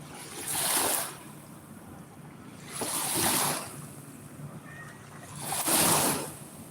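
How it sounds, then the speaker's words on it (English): Rough lake water churns around a kayak, with three loud surges of waves washing past at steady intervals and wind buffeting the microphone between them. "we got some kind of rough water here today"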